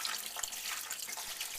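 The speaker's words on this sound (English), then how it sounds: "We're going to pour filtered water over it" Filtered water pouring from a water filter, a steady close splashing trickle with light bubbling over its brief length, no voices.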